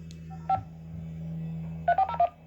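Baofeng UV-5R handheld radio sending DTMF keypad tones: a single short beep, then a quick run of four clipped tones over a steady low hum.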